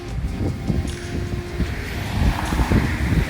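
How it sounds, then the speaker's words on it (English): Gusty wind buffets the microphone outdoors on an Ottawa street, rumbling low and uneven in continuous waves, loud and close with no voices. "It's quite windy out there"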